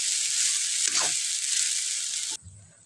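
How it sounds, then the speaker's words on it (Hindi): Boiled rice being mixed into cooked spices in a hot pan for mango rice, producing a loud, steady sizzle with a brief stirring scrape. The hiss cuts off abruptly near the end, leaving a faint low rumble. "अब इसको अच्छे से मिक्स कर देंगे"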